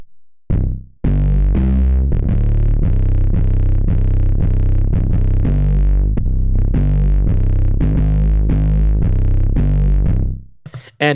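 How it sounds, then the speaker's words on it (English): An 808 bass run through the Heat distortion plugin plays a series of gritty, distorted booming notes in a steady rhythmic pattern, each with a saturated decaying tail, loud and up front with no talking. "This one I really like on 808s because it adds that like grit and distortion."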